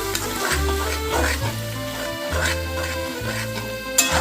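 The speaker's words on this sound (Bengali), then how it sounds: "জল দিয়ে আবারও ভালোভাবে এটা মিশিয়ে নিচ্ছি" Katla fish curry masala, loosened with a splash of water, stirred and frying in a pan for doi katla: close, wet sizzling and scraping with rhythmic strokes of the spoon, steady and fairly loud.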